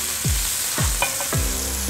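Onions and garlic fry in oil for cabbage rolls, a bright continuous sizzle with a few low thumps and scraping stirs, close and loud, with no one speaking.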